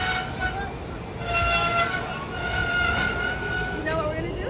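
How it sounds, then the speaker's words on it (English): Washington Metro 6000 series Silver Line train arriving at a station, with a sustained horn-like tone and rising and falling whines over steady rumbling, plus station background noise. "Ooh, there's a train approaching."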